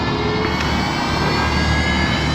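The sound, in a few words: Losi Promoto-SM RC motorcycle motor spinning up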